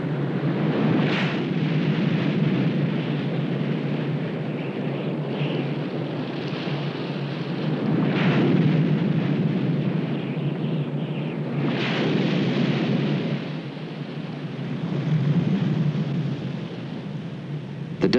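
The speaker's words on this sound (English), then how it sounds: "The rain has finally let up, but the gale winds continue to blow." Gale winds blow over a stormy sea after heavy rain, a loud, continuous roar of wind and surf that swells into stronger gusts every few seconds.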